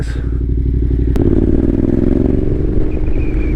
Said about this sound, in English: I love the engine for this bike, you know, off-road. This is, I mean, so versatile. Just chugs along like a steam train.